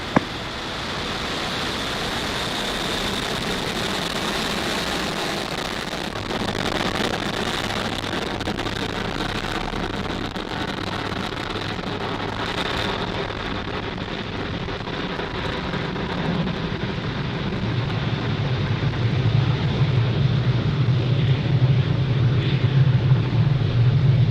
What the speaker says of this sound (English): Falcon 9 has successfully lifted off from Pad 40 at Cape